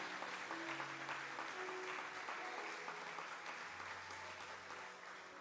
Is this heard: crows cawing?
no